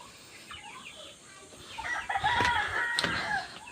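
Chickens cluck at a distance, then a rooster crows loudly in the middle, with more clucking around it over a soft outdoor background on a farm in Cavite, Philippines, with rain around.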